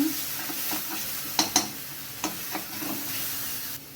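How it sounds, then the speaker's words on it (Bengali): A paste of onion, ginger, garlic and green chilli sizzles softly in a pan after whole garam masala tempering, with a few sharp spatula scrapes and taps over a low hiss, close up and without speech. "মশলাটা একটু ভাজা ভাজা করে নেব"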